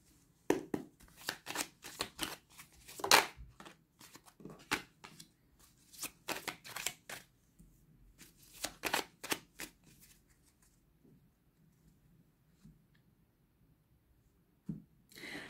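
A deck of tarot cards being shuffled and cut during a reading: close, crisp bursts of riffling and flapping cards in irregular clusters, separated by quiet pauses, with a faint tap near the end.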